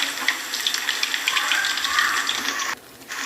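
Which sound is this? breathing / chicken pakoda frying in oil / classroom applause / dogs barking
chicken pakoda frying in oil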